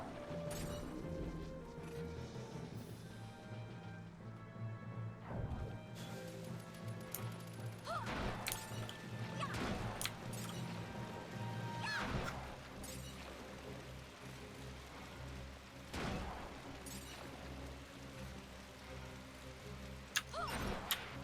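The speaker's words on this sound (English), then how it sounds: "I really like the weight that the rain has." Video game rain falls steadily and heavily, with a dense patter mixed with sharp intermittent cracks and thuds throughout, fairly close and full-bodied.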